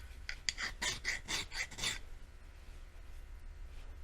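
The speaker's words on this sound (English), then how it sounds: "the best way to do that is just touch it with a file" A metal file scrapes across a steel shaft from a Force 120 hp outboard lower unit in a quick series of about eight short, bright rasping strokes, close and distinct, then fading into quiet.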